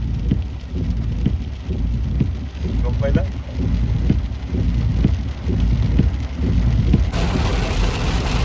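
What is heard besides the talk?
heavy rain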